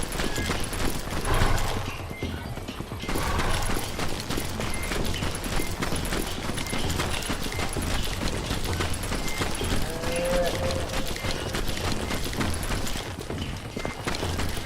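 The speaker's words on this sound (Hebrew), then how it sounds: "אני שומע סוסים, אני לא רואה סוסים." Horses galloping in a video game, hooves clip-clopping steadily through a dense mix of game sounds and background noise, with a voice talking over parts of it.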